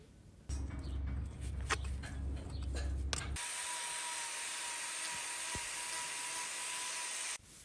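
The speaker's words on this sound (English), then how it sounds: "You probably also notice as I'm trimming this hoof" A whirring rotary trimming tool works on a small, debris-packed hoof of a limping steer with an axial fissure. Rougher buzzing with some talk gives way to a loud, steady grinding drone that runs close and unbroken for several seconds.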